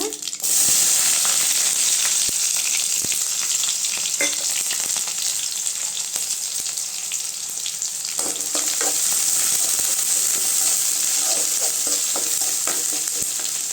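Onion and dried red chillies fry in a pan for chow chow poriyal, a continuous loud sizzle with scattered stirring clicks and scrapes throughout.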